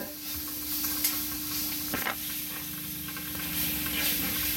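Spiced dry fish frying in a pan, a steady close sizzle and hiss running throughout with faint stirring scrapes and small crackles.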